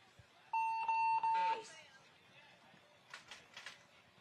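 A steady electronic buzzer tone sounds for about a second at a 2024 World Cup match, broken by two short gaps, with game noise and faint voices around it.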